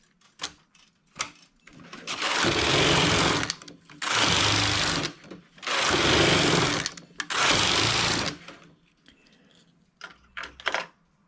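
A knitting machine making an adult princess sleeve: the carriage is pushed across in four loud, close sweeps of whirring rattle, each about a second and a half, separated by brief pauses and small clicks.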